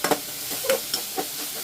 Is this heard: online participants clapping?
no